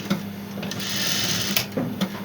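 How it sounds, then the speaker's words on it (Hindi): A home sewing machine double-stitches a homemade cloth face mask, running in a steady, close mechanical whir with a few brief clunks and pauses as the fabric is fed through. "ये देखिए फिर इसे डबल सिलाई कर देंगे ताकि इसके ऊपर मजबूती आ जाए।"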